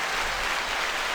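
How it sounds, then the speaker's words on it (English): A round of applause greets a new co-host on a podcast, a dense, even wash of clapping that holds steady at moderate loudness for about a second, with no voices over it. "Can we get a round of applause,"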